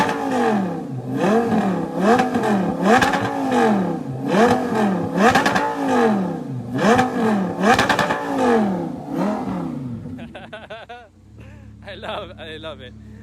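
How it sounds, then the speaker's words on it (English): An Audi R8 V10 exhaust revs repeatedly, rising and falling in rhythmic pulses about once a second, loud and close, before settling to a lower idle with a brief burble. "Now, let's hear the exhaust."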